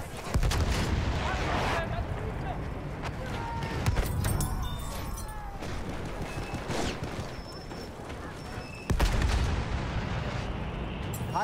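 Enemy machine gun fire and battle noise from the video game Battlefield 1 keep up dense, continuous bursts of distant shots and blasts. Shouted soldier voices come over the gunfire.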